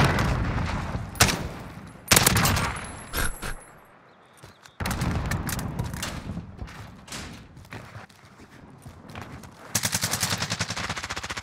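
Bursts of video-game gunfire in a team shooter match, rapid automatic volleys and single heavy shots coming in loud clusters with brief lulls between, ending in a sustained burst.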